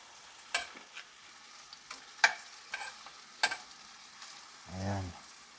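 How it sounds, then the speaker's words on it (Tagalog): Beef and broccoli in oyster sauce being stirred in a frying pan, a series of sharp utensil scrapes and clinks spaced out over a faint sizzle, with a brief low tonal hum near the end. "Yung naghahalo si Chef Cook Annalyn."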